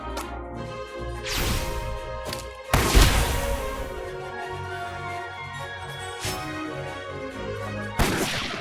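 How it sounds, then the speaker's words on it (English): Booming gunshot blasts in the video game Live A Live, several heavy cracks with long ringing tails and a layered musical tone beneath, loud and alone without talk. "Alright, here we go. Big gunshot."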